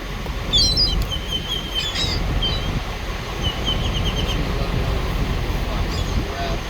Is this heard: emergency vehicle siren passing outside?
no